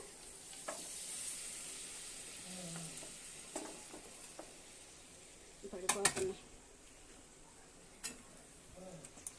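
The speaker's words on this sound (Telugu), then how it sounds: "టమాటా ముక్కలు దోసకాయ ముక్కలు రెండు కలిపి అయితే వేస్తున్నానండి" Tomato and cucumber pieces sizzle faintly in a curry pan while a utensil clicks and scrapes at intervals, with a brief cluster of louder knocks partway through.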